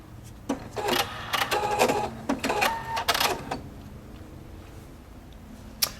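A Viking Opal 690Q sewing machine runs a short burst of rapid needle clatter, pausing briefly, then stops after a few seconds to tie off the stitch, leaving quiet room tone and a single small click.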